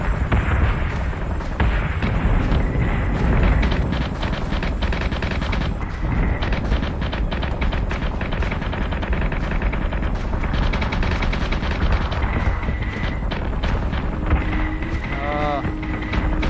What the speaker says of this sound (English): That's the Raptors coming in with their missiles.